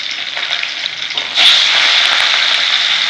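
Katla fish pieces fry in hot oil, a continuous hissing sizzle that swells sharply louder about halfway through as the fish settles in the pan, with no talking.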